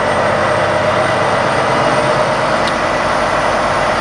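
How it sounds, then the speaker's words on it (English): A 2024 Volvo VNR truck's D13 engine drones steadily nearby as its RPM ramps up for a forced DPF regeneration, a dense, loud rumble holding at a constant pitch. "what you'll hear behind me is the truck starting to ramp up the RPM"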